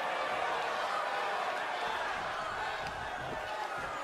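A wrestling arena crowd in WWE 2K23 cheering, a constant dense roar of many voices at moderate distance, steady throughout with slight swells.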